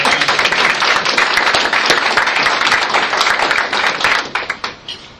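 Close, loud applause from a lecture audience welcoming speaker Tom before his talk on corporate personhood, many hands clapping briskly before thinning into a few scattered claps at the end.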